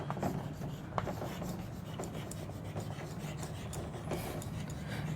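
A mitochondria diagram is drawn on a classroom board, with continuous close scratchy strokes and rubbing, an occasional sharp tap, and no talking over it.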